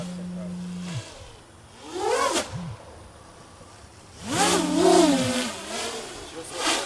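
Motors of an FPV drone on an RMRC Valorem frame spun up to 75% throttle, two rising high-pitched whining bursts that swell and fall, close by, with some talking around them.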